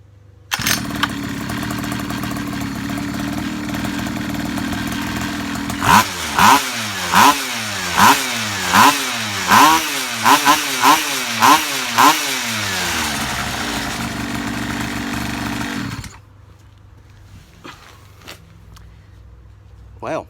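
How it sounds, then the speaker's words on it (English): A mini quad's small engine on its first start after a carburetor rebuild and fault finding: a burst of rapid pulling cranks, then it catches and runs with a loud, steady idle and revving before cutting off abruptly. "this is the first start from the carburetor rebuild and the fault finding"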